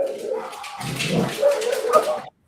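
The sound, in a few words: dogs barking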